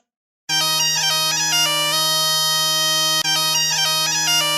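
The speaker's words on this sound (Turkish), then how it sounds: "Bakın tulum sesi." A tulum (Turkish bagpipe) plays a steady, droning melody, bright and reedy with a constant low drone, loud and continuous after a brief silence.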